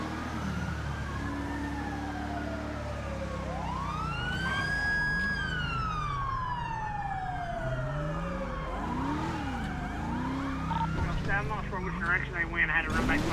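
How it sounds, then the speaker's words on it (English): Police sirens in a roleplay video game wail and yelp in rising and falling sweeps for the whole stretch, fairly loud over a steady engine and road rumble, with several siren tones overlapping toward the end. "I heard the sirens."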